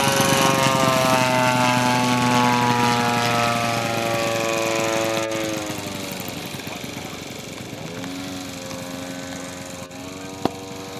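A P-47 Thunderbolt taxis toward the runway, its radial engine droning loud and steady with a rich harmonic rumble that eases slightly as it moves. People talk briefly nearby.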